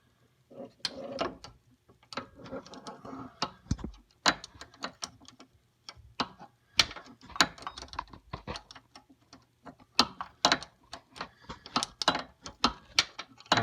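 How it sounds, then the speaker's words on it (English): A wrench on a C6 Corvette's brake line fitting makes irregular sharp metallic clicks and ratcheting taps, close and steady, with no voice over them. "You're going to use your wrenches."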